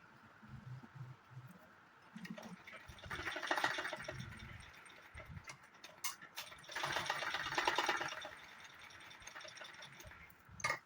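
A sewing machine stitches pleats on a saree belt, its motor running in two sustained bursts with lighter ticking and handling noises between, close and fairly quiet with no talking.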